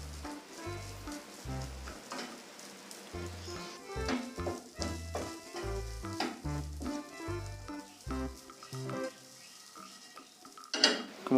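White rice being stir-fried for nasi goreng, with a steady close sizzle and repeated scraping stirs of the spatula through the pan. A rhythmic low backing runs underneath and no one speaks.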